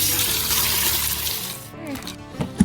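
Water runs and splashes while the water is changed for live crayfish caught from a UK river. The gushing is strong at first, then fades into lighter trickles and a few clatters, with faint voices in the background.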